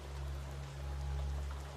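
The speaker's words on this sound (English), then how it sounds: "The rain is steady now, its sound blending with the distant call of night birds." Steady rain falls at night in a continuous soft hiss, with a low constant rumble beneath and no distinct drops standing out, calm and unbroken throughout.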